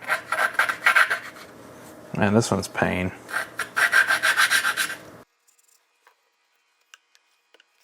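Engine valves on a 1974 Honda CB350F are hand-lapped with grinding compound, making rhythmic gritty rasping strokes up close. Someone briefly speaks midway, and the scraping then stops, leaving a few faint taps.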